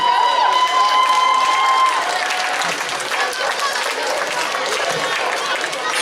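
Audience at a talent festival applauding and cheering to welcome girl performers, a broad, sustained burst of clapping with crowd voices mixed in and a brief tonal sound at the start.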